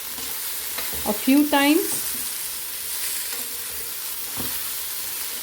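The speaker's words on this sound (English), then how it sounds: "add in the tomatoes and just toss them up" Chopped onions and tomatoes sizzle and get tossed in a hot frying pan, a steady soft frying hiss with light stirring scrapes, briefly under a short spoken phrase.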